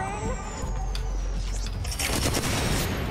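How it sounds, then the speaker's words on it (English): Gunfire in the Apex Legends game: dense, rapid shots and booms over a loud, continuous game background, with players talking faintly. "he's firing"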